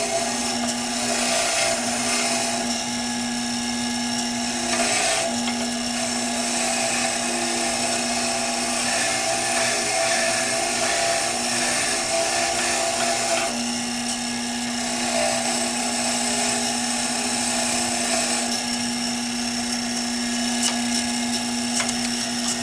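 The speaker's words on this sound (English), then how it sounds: "So we're just going to hit that here with the wire wheel quick." A wire wheel scrubs rust off small nuts and washers during service on a Cub Cadet mower deck, giving a continuous loud whirring grind with slight shifts in pitch as parts are pressed against it, no talk.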